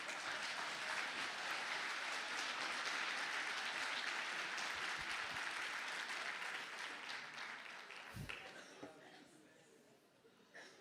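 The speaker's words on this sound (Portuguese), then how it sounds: "Vamos aplaudir Jesus," Church congregation applauding during a service, a broad sustained roar of clapping that holds steady and then gradually thins out, with a brief thump near the end and faint voices underneath.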